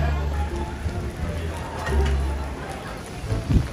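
Rain falls steadily on a deserted street in a tourist area near a temple square, making a continuous close hiss with a low rumble and a faint murmur underneath.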